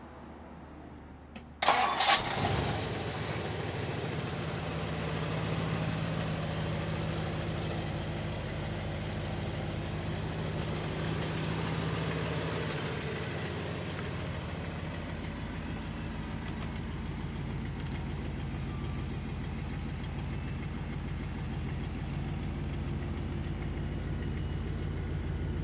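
A 1962 Ford Galaxie 500 Sunliner's 352 V8 cranks briefly and catches, then settles into a steady, rumbling idle heard nearby for a long stretch, with no talk over it.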